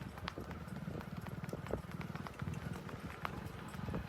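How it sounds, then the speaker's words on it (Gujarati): A mare walks along a village road, her hooves clip-clopping in a quick, regular beat that stays faint and steady for several seconds, with no voices. "જો આ ઘોડીની હાલ જોવો એકવાર તમે ખાલી"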